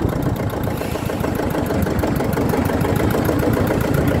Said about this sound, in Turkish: Sıfır gaz, traktör sıfır gaz resmen, hiç gaz vermeden dur tak yapıyor.